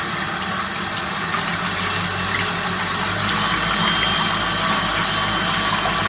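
A stand mixer runs at a higher speed, working a dinner-roll dough of milk, butter, yeast and eggs, with a loud, steady motor hum and rumble that holds constant throughout.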